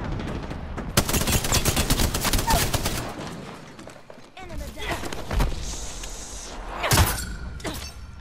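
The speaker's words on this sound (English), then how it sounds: "Are y'all shooting at me? Oh, they were." Rapid bursts of automatic gunfire from the video game Apex Legends sound close and loud, with more shots and impacts later. Players talk over the shooting.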